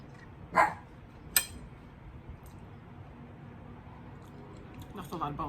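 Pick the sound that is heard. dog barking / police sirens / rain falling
dog barking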